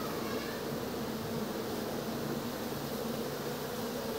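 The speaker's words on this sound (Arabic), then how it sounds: "النحل يغطيه" Dense, steady buzzing of a mass of honeybees crawling over a hive frame covered with brood, a continuous near drone filling the whole stretch with no talk.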